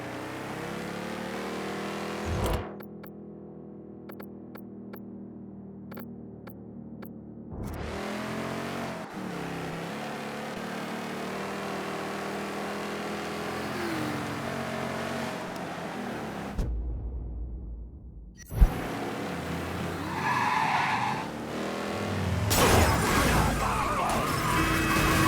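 Car engine droning and revving through a drive in the video game Mafia 3, with shifting gear tones, a sharp crash-like hit, and louder revving and tire noise toward the end; no talking.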